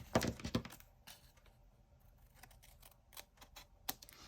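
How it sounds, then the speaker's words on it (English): Scissors snip off fabric ends beside a book during sewing, a quick cluster of crisp close cuts at the start followed by softer scattered snips and taps. "And then I'm going to cut the ends off like this,"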